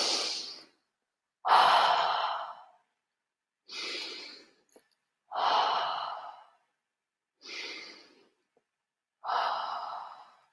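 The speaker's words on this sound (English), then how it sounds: "Take 3 deep breaths." Deep, slow breaths taken during a guided meditation, about six long inhales and exhales separated by silence, close and clear with no speech.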